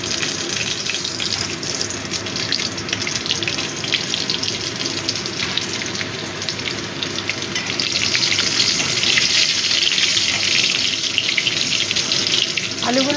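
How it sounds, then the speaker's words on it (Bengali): Potatoes frying in a pan for a mixed-vegetable prawn curry give a steady, close hiss of sizzling oil that grows a little louder toward the end, with no talk. "আলুগুলো একটু ভেজে নেব।"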